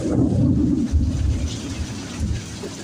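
Hard rain pours steadily in Texas, a dense low rumble of thunder rolling beneath it in long swells that rise and ease, close and loud throughout with no talking.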